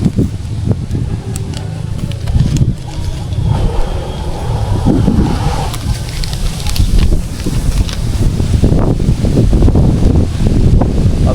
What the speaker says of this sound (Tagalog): grabe, lakas ng hangin na